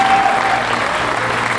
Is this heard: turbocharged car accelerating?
no